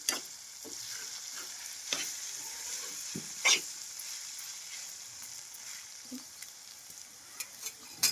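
Cashews go into a pan of frying mutton keema curry, giving a steady close sizzle broken by occasional scraping stirs and light clinks, with no talking.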